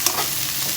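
Onions sauté and sizzle in a pan for semiya kichadi, a soft steady frying hiss with a faint stir near the start, close and alone.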